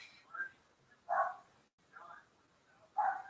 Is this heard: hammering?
no